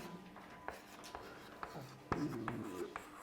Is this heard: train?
no